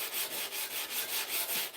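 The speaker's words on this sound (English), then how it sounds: "we're just hand sanding right now" Knife blades are sanded by hand in quick, even back-and-forth strokes, about ten rasping rubs in under two seconds, close and steady with no talking.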